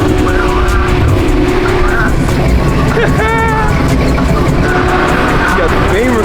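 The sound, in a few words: BMW M4 with big rear wing arriving at car meet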